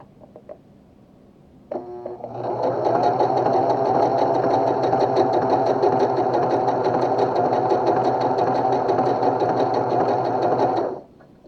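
A Pfaff sewing machine sewing a zigzag stitch starts abruptly and runs at a steady, fast mechanical whir for about nine seconds before stopping, loud and close, with no talking.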